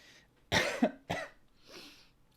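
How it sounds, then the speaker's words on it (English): A person who has had COVID coughs two sharp times up close, followed by a softer throaty clearing, in an otherwise quiet indoor room. "it's left me with a cough that I still can't quite shake off yet"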